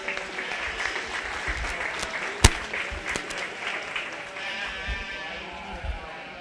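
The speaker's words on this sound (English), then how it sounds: "Let's start off and give these kids a round of applause" Audience applause for young exhibitors at a 4-H/FFA sheep and lamb show, a steady patter of clapping in a livestock arena with one sharp loud crack near the middle, faint voices and animal sounds under it.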